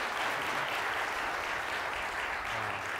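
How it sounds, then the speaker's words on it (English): A church congregation at an Easter service gives another round of applause after a performance, a thick, steady wash of clapping from a large crowd, even and sustained from start to finish. "Let's give them another round of applause, folks, for that"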